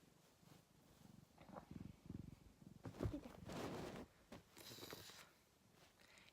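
A domestic cat purring close by, low and rumbling in uneven bursts with soft rustling and movement noises, faint overall.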